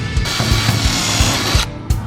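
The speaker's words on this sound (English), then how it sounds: "Maybe drill little holes and put some rivets in." A power drill boring small holes for rivets in a Crown Vic race car, a steady whirring buzz throughout with short grinding bursts as the bit bites, close and loud, with no talk.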